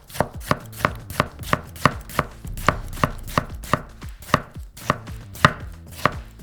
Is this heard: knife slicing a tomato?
yes